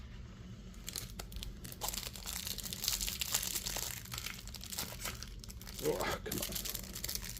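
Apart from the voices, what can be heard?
plastic wrapping crinkling as someone struggles to open it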